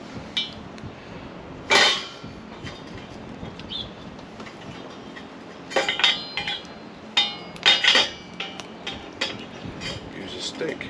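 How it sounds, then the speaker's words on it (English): A metal fire pot is set onto a Kelly Kettle outdoors. A sharp metallic clank comes first, then a burst of clattering knocks and scrapes against a quiet background. "Don't want anything overhanging the edges when you put the fire pot on."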